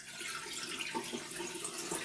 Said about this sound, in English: through the sieve, you get rid of the water.